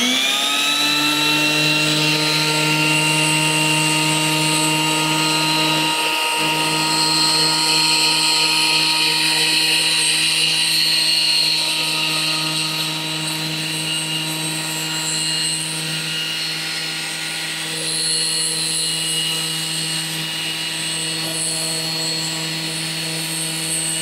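A Bosch GBS 750 belt sander runs steadily at its minimum speed, a sustained whirring motor hum with high tonal whine, close and loud without pause.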